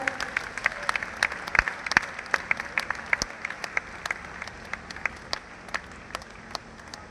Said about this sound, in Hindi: आपकी तालियां बजती, तालियों में कंजूसी ना करें